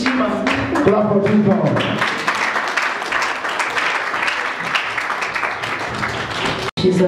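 A church congregation claps for Jesus in loud, sustained, dense applause that fills the room, with voices audible over the clapping at the start.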